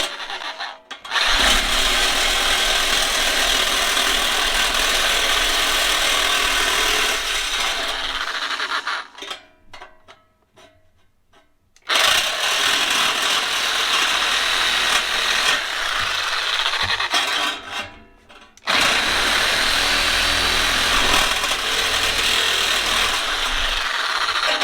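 Harsh, steady cutting of a scrap piece of metal into a clip for the clutch of a 1982 Honda CB 650 cafe racer, loud and close, in long continuous passes broken by two short pauses.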